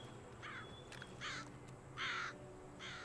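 Crows caw around a church in Far Cry 5, four harsh calls spaced about a second apart, fairly faint over low ambient background.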